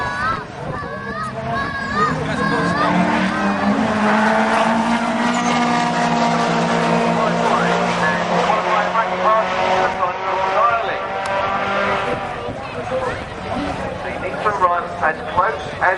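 Drag race cars at Bug Jam, including the Sub 11 motorsports machine in the right lane, roar loudly and continuously with rising engine tones while an announcer talks over them throughout.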